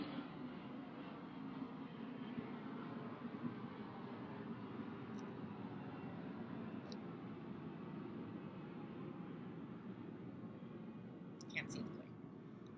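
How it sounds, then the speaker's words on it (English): An airplane passes overhead as a steady, low broadband rumble that holds at a constant level throughout, fairly faint and distant, with a few light clicks near the end. "Oh, here comes a plane."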